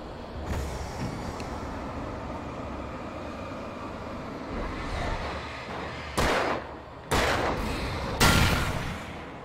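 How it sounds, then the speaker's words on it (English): Flare gun and other gunshots fired in the Alan Wake video game, several loud, bright bursts near the end following a low rumbling background, the last ones close and forceful. "Flare gun."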